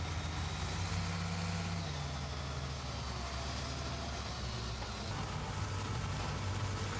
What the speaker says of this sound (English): As the motor grader moves along, the blade cuts away the high spots of material and windrows it along the edge of the pavement